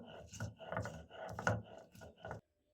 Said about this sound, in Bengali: শিলপাটা এখন মশলাগুলো বাটলাম